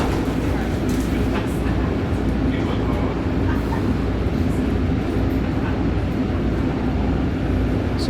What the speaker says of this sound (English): So right now this train's running on the third rail.